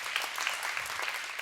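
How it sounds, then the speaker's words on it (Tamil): A television dance-show studio audience claps in a steady, dense wash of applause, moderately loud and continuous, with no voices on top. "அவர் பேர் சொன்னாலே கைத்தட்டல் தானா வரும்"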